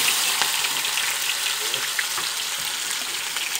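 Whole spices, cinnamon, cardamom, cloves and fennel, fry in freshly poured hot oil, making a bright, continuous sizzle with faint crackles, close and fairly loud, without talk.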